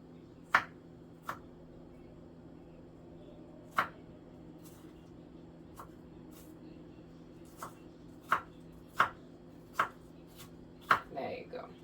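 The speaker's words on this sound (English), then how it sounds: "we're gonna cut everything else, all the onions, tiny small little pieces" A knife chops onions into tiny pieces on a cutting board for a mango salsa, with sharp isolated taps spaced irregularly, a few seconds apart, close and fairly quiet, with a low steady hum underneath.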